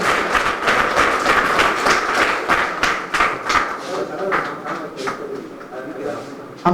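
Close, vigorous clapping from an audience honouring someone at an automobile workshops association award ceremony, dense at first and then thinning into scattered claps, with voices underneath.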